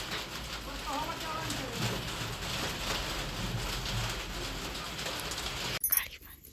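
Rain falls in a steady, even hiss, with faint bird calls and murmuring in the background before it cuts off abruptly near the end.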